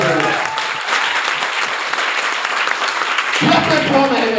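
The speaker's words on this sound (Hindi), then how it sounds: "दमदार ताली होनी चाहिए।" A large audience bursts into loud, sustained applause after a motivational speech, the clapping dense and continuous, swelling again near the end.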